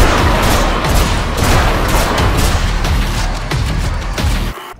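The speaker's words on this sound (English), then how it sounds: "Javelin Gun." Javelin Gun from the Dead Space remake firing in loud, dense bursts of heavy impacts and booms that run without pause for nearly five seconds before cutting off at the end.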